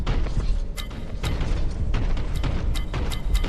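Grav cannon fire in the Warhammer 40K: Boltgun video game, dense rumbling booms with sharp crackling bursts layered over continuous loud combat noise, steady and close.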